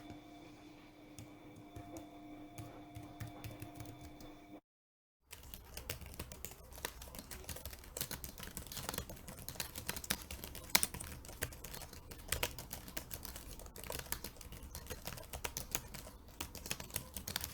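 Continuous typing on a computer keyboard during a timed six-minute writing sprint, brisk irregular clicking of keys close by after a short opening stretch with a steady hum and a brief pause.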